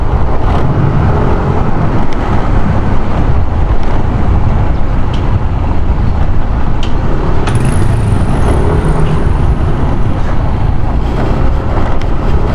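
Continuous engine rumble of a Yamaha NMAX 155 scooter on the move along a provincial road, heavily buffeted by roaring wind noise across the microphone, steady and loud throughout.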